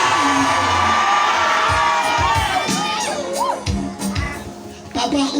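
A church congregation shouts loudly together during a French-language sermon, a dense crowd roar of cheering and whoops that holds steady and then swells again near the end, with voices rising over it.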